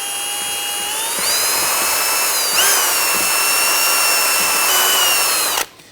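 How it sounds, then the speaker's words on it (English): A power drill spins a bore brush to loosen old grease during a front brake job on a 2010-2019 Ford Taurus, whining at steady high speed, pitch shifting slightly as the load changes, then cutting off abruptly near the end. "I'm going to take a bore brush on my drill and go in and out of this here."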